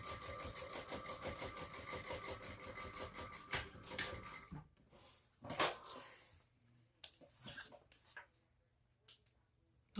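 A sewing machine top stitches a sling bag, running in a dense, rapid whir for about four seconds, then stopping. Quieter handling and rustling of the fabric follow.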